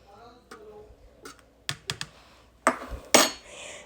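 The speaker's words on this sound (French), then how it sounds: "maintenant, je vais tout mélanger." A noodle soup being stirred in a bowl, with a run of sharp clicks and scraping clatters, spaced out at first and then bunching into louder bursts near the end, close and fairly loud.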